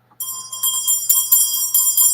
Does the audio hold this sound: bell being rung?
yes